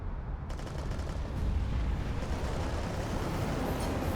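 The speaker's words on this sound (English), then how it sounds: "Throwing flashbang." A flashbang grenade goes off in the CS:GO video game with a loud, sharp burst. A dense, rumbling roar and ringing wash follow and sustain for several seconds without talk.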